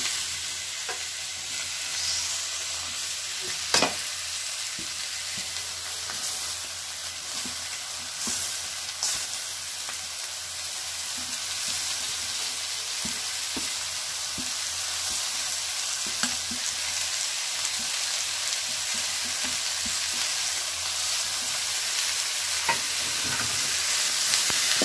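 Onions and tomatoes sauté in a pan for tomato thokku, giving a steady, close sizzle that runs throughout with occasional soft stirring scrapes and clicks.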